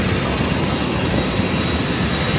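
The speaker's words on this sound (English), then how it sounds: "Now about to get on the plane." An airplane at a Zamboanga City airport before boarding gives off a loud, steady engine drone that fills the scene without pause, with no speech over it.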